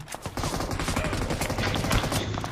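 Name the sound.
M249 machine gun gunfire in the video game BGMI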